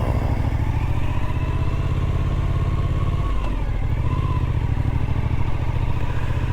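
A motorcycle engine runs steadily and loudly up close beside a boat ramp at a recreation area, with a continuous low throbbing drone throughout and a brief dip in the rumble partway through.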